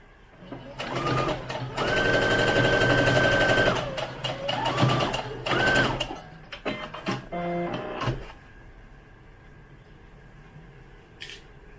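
A sewing machine stitches fabric for an American Girl doll's skirt undergarment. It runs loud and close in one long steady burst, then gives a few shorter runs and stops.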